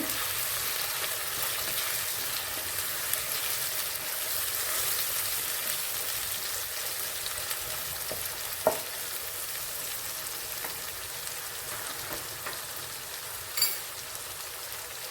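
Chopped tomatoes fry in a pan for masala egg curry, giving a dense, continuous sizzle with soft stirring scrapes and one or two brief knocks, close and steady throughout.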